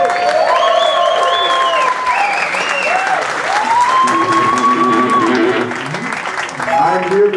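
Concert crowd applauds and cheers for a tribute band, loud sustained clapping and whoops filling the room throughout, with a voice shouting over it.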